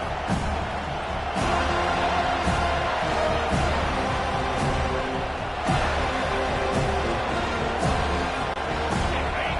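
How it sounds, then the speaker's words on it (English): A large crowd roars continuously at a college football game in an LSU stadium just after the opening kickoff, a dense, steady wall of cheering and noise with no pauses. "This crowd trying to show them what it's going to be like all day in this house."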